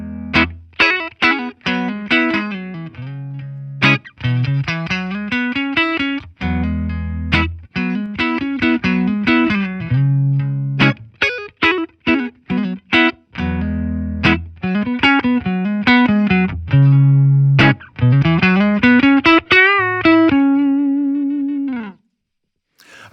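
An electric guitar plays through a Fender Tone Master Twin Reverb amplifier on the bright channel, with clean picked notes, chords and sliding phrases rising and falling in clear, sustained tones, close and alone until a final ringing note fades.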